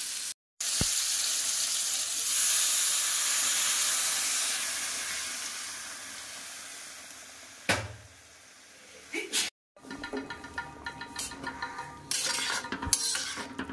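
Water poured into a pan of mustard spice fried in oil, for a sour katla fish curry with mango and lychee, sends up a loud steaming hiss that slowly fades, followed by clinks of utensils against the pan.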